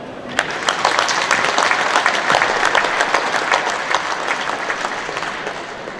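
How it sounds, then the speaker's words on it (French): Audience applause at a Citroën press conference at Epoqu'Auto 2019, a dense, even clapping from a sizeable crowd that holds steady throughout without pause, no voices rising above it. "Je vous invite à les applaudir."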